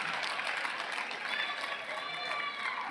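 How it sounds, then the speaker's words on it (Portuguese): A church congregation claps together during a sermon at a Brazilian service, a dense steady patter of many hands filling the room, with voices mixed in. "Obrigado, pastor Márcio, por puxar as palmas."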